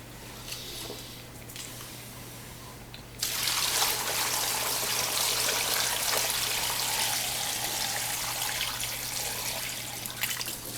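Water pours onto clay being slaked down in a pottery studio, a steady close trickling and splashing that begins abruptly partway through and continues evenly over a low constant hum.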